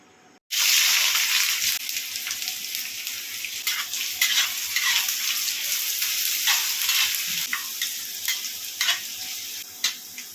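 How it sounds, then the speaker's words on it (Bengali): Chopped onion, garlic, green chili and ginger sizzle in hot oil, a steady loud frying hiss with scraping stirs and light clatters throughout, starting abruptly after a brief silent moment; no talking. "কুচানো পেঁয়াজ কুচানো রসুন কাঁচা লঙ্কা কুচানো আর আদা কুচানো এটা আমি ভেজে নেব প্রথমে তেলের উপরে"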